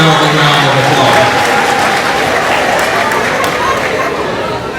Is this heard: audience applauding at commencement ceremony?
yes